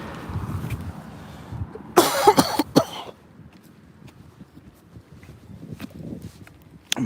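A few sharp, hoarse coughs in quick succession stand out against quiet outdoor background noise with faint footsteps.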